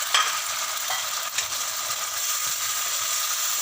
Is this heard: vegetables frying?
yes